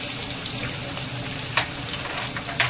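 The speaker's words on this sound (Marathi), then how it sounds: "याला मस्त असं परतून घ्यायचं तेलामध्ये, छान नरम होऊ द्यायचं।" Capsicum, carrot, chili and mustard seeds sauté in hot oil for an Indian-style macaroni pasta, producing a close, steady frying sizzle with a couple of quick stirring scrapes.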